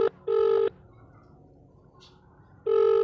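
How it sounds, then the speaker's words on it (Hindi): Touch-tone telephone keypad beeps in two short bursts separated by a quiet pause, crisp and close, with no talking. "रुकिए अभी हम डॉक्टर को फोन करते हैं।"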